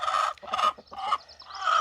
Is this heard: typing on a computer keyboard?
no